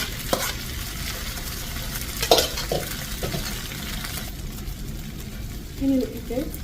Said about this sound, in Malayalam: നമുക്ക് തോരൻ ഇതിലേക്ക് ചേർത്ത് കൊടുത്തിട്ട് നന്നായിട്ട് ഇളക്കി വെക്കാം.